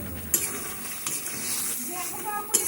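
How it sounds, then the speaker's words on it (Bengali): Cauliflower with ground coriander and cumin being mixed in a pan, a continuous close sizzle with soft scraping and a few light clinks of the spoon against the metal. "দিয়ে ভালো করে সমস্ত কিছু দিয়ে ভালো করে মিশিয়ে নিলাম।"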